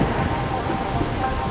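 Heavy rain pours down with a deep thundery rumble underneath, dense and loud throughout.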